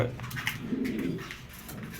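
Racer pigeons coo softly in a loft, a low steady murmur with a few brief higher chirps over a constant background hum, no voices.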